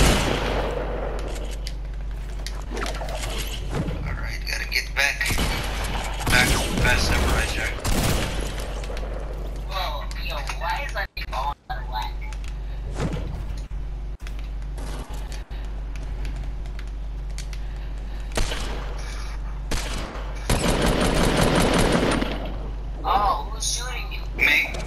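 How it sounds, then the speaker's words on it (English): Repeated gunfire bursts from the Fortnite video game, dense and loud through most of the clip, with players talking over the shooting throughout. "I shot you and he was shooting at you as well."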